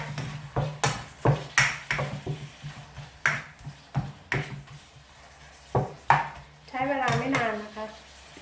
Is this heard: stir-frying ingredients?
yes